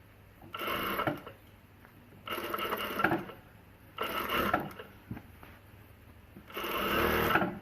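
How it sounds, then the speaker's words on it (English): A sewing machine runs in four bursts, stitching a one-centimetre seam while a tote bag is made, each run lasting roughly a second and separated by short pauses, close and steady with no talking. "When I'm matching, I just sew along a centimetre and then I flip this back and check."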